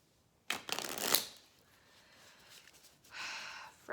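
Tarot cards being shuffled by hand on a couch, a dense papery riffle burst near the start followed by quieter handling and a second shorter shuffle toward the end, close and fairly soft with no talking.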